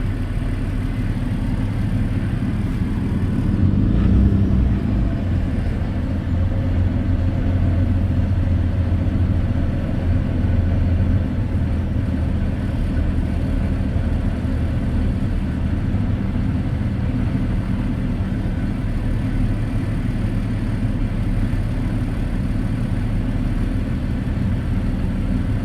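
A truck sits stopped in gear during a CDL driving test in Sacramento, its engine idling in a steady low rumble that runs unbroken and fairly loud throughout, with no talk over it.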